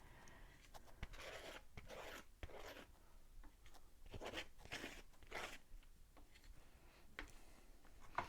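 Paint being scraped off an abstract painting: a run of rasping, crunchy strokes in a steady back-and-forth rhythm, close but quiet, with no talking.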